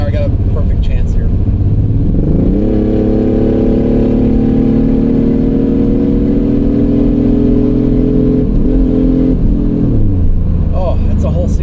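A WK1 Jeep Grand Cherokee with a loud, worn exhaust accelerates hard under kickdown on a road test. The engine drone is close and continuous and climbs steadily in pitch, briefly dips as a gear changes, then keeps pulling.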